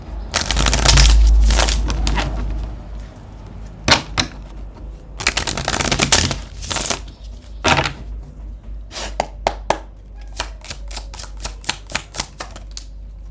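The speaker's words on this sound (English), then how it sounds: "I'm just going to shuffle 2 more times" Tarot cards riffle and snap as the deck is shuffled close up, several bursts of fluttering followed by quick crisp taps.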